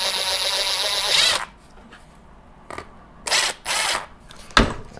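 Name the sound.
power drill drilling out a hole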